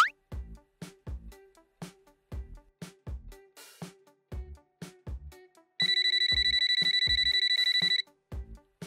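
A phone ringtone chimes in a repeating electronic pattern, then a steady bright ring tone holds for a couple of seconds before stopping.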